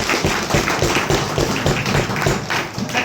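A seminar audience breaks into dense, steady applause at a health awareness talk, with many hands clapping close and loud throughout and no voices on top.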